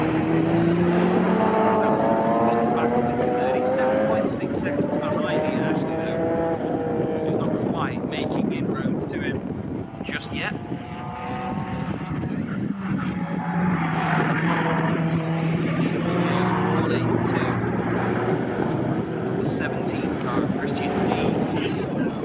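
Saloon race cars lapping Snetterton circuit, engines roaring steadily past with rising and falling pitch throughout, loud and continuous under a commentator's voice.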